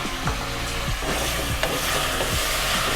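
Chopped tomatoes sautéing in a pot of wedding-style mutton stew, with a steady close sizzle broken by repeated scraping stirs of a spoon roughly every half second to second, no talking.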